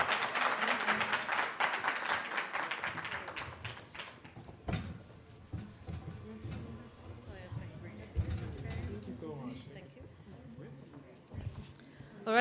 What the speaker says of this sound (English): Let's clap for them as they come on stage.